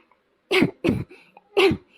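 Three sharp coughs in quick succession, close and clear, with short pauses between them and no other sound.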